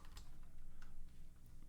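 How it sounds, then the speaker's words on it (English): Typing on a computer keyboard during a Linux command-line session, a quiet, steady run of soft clicks over faint background hum. "I have trouble typing that out."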